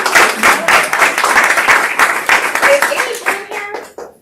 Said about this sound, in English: Big round of applause for everybody up on this slide.